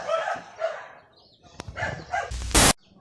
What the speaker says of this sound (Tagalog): Ang hingay ng mga aso.